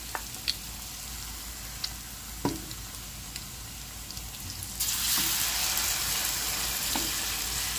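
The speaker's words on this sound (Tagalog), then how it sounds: "Prito-prito lang po tayo mga kabayan hanggang makaluto po tayo para tayo po ikakain na." Battered shrimp and fish fry in oil with a steady, fairly quiet sizzle, punctuated by scattered pops and clicks, the hiss growing louder and fuller partway through.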